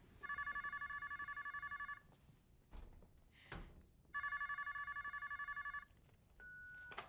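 A telephone rings in a movie scene, two long bursts of a bright electronic bell tone separated by a short pause with a few soft knocks and thuds, followed by a faint beep, no talking.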